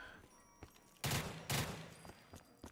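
Three-round bursts from an M16 rifle in Black Ops 3 Zombies, two loud close bursts about half a second apart with faint shots and game noise around them.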